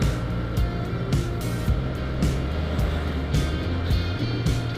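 A Honda Scoopy scooter engine labours while climbing a steep hill, giving a loud, continuous drone with rough low rumble and surging bursts, recorded close while riding.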